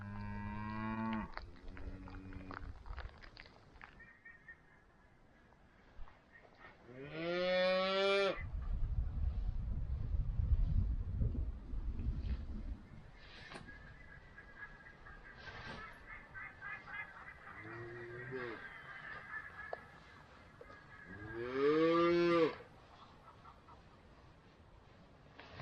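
Cattle on the Patagonian pampa with a calf nearby moo in several long, drawn-out calls spread across the stretch, some loud and close, others fainter, set against wind rumble and open-air background noise.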